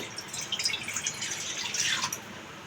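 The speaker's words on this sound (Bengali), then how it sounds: "এখন কড়াতে দিয়ে দেবো জল" Water poured into a wok on a gas stove for a plum chutney, a short steady trickling and splashing stream, close and fairly quiet, with no voices.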